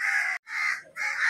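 A crow caws three times in quick succession, loud harsh calls close by separated by brief pauses.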